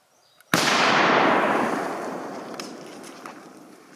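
A single deafening shot from an AK-50 rifle during test firing, striking suddenly and then leaving a long, gradually fading rumble of echo, with no other sounds around it.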